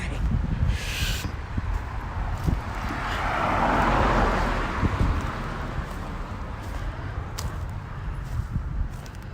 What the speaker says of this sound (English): there's some sort of bird up there. What are you? What's that?